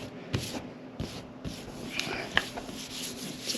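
Marks are rubbed off the hull of a 2007 Regal 2700 Bowrider. Soft, close rubbing strokes repeat in a loose rhythm, with faint scuffs and a few small knocks.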